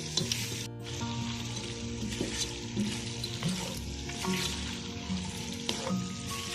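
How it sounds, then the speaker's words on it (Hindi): Macaroni sizzles in a frying pan as soy sauce and ketchup are stirred in, a steady close frying hiss with soft scraping strokes of the spoon and no talking. "ये सोया सॉस डालने लगी मैं, और ये केचप भी डाल रही हूँ। इसको अच्छी तरह मिक्स कर लेंगे।"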